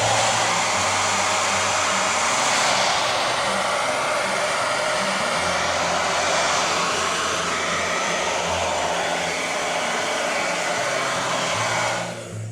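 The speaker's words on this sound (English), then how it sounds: "I'm going to help it along with the hairdryer here" A hair dryer drying a wood carving blows steadily and loudly at close range for the whole stretch, a constant rushing whir that drops off right at the end.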